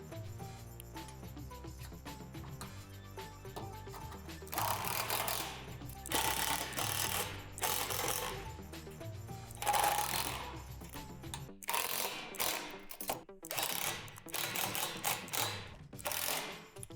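A cordless power drill drives self-tapping screws through a metal swing set pole, giving repeated loud whirring and grinding bursts of a few seconds each, separated by short pauses and a quieter background hum.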